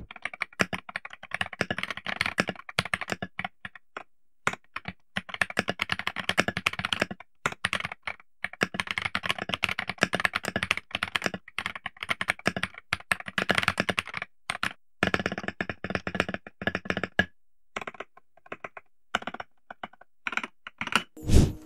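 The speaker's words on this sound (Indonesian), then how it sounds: "buat kalian yang pengen dengar suara typing test-nya" Fast typing on a Kiiboom Phantom 68 acrylic keyboard with linear switches, close and crisp keystrokes in steady bursts with short pauses between them.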